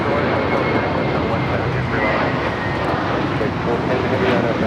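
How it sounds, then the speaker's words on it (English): A JetBlue Airbus A321 jet takes off at LAX on a flight to Fort Lauderdale, its engines giving a steady, loud broadband roar that holds throughout, with a voice talking over it. "This is Imperial Girl taking off to Fort Lauderdale, JetBlue, flight 1700. It's an A321."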